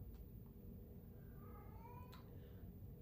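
A house cat meows a few soft, drawn-out times from another room, faint and distant over a steady low background hum.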